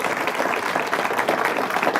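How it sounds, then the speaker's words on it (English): Applause from a summit audience in a conference room, a steady dense wash of many hands clapping at once, sustained and even for the whole stretch with no voices breaking through. "could you join us in a round of applause?"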